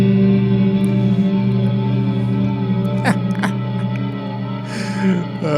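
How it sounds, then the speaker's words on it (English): An electric guitar played through a wet, wide reverb effect holds a loud, sustained wash of ringing tones, with a couple of sharp plucked attacks that bloom and trail off into long echoing tails. "it was just kind of like a reverb"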